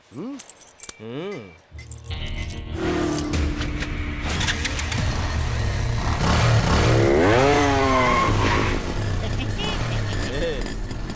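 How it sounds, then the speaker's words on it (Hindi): A motorcycle engine revs and roars in a dramatic film scene, running steadily loud for most of the stretch beneath music and effects, after a few brief voices at the start. "ये कैसी बाइक दिया है इसको?"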